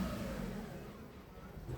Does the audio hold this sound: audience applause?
no